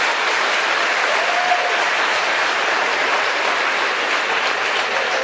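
Congregation applause fills a church service, a steady dense roar of clapping hands sustained from start to finish at full loudness, close and even throughout.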